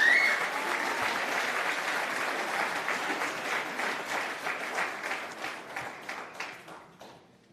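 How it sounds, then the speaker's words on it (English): An audience at a Malcolm X commemoration event applauds warmly, a dense crowd clapping that holds steady and then gradually thins and fades out. "Yes, another round of applause for that sister."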